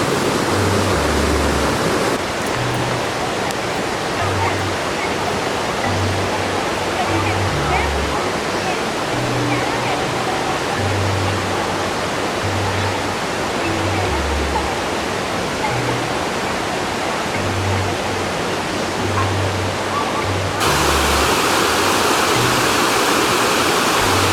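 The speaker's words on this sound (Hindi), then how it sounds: "मॉनसून सीजन में तो जलप्रपात अपनी चरम सीमा पे होता है।" Dudhsagar waterfall on the Mandovi River in Goa roars at full monsoon flow. The rush of water is loud, dense and continuous, with low rumbling under it, and a voice talks over it.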